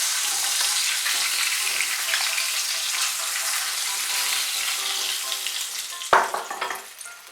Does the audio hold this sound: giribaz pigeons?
no